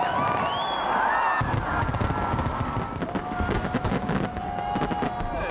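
New Year fireworks fired from seven barges over Sydney Harbour burst in a rapid crackling barrage of bangs and pops, with a large crowd cheering and roaring steadily beneath the explosions.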